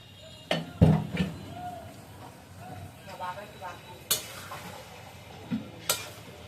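A spoon stirs fish head and boiled mung dal as they sauté in a pot, giving a few sharp clinks and scrapes over a soft, low sizzle, with a voice now and then.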